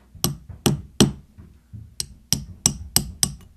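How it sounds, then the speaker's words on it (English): A hammer strikes a steel punch set in a tool to flatten a harmonica reed plate on a hard flat surface: eight sharp metallic taps in irregular rhythm, close and loud, with no talking. "I'm just going to hit it with a hammer."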